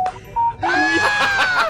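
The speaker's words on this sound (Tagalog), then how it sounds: "Biglang may nag-text." A phone's text message notification sounds as a couple of short electronic tones, followed by a brighter, louder chime-like burst that runs to the end, with voices nearby.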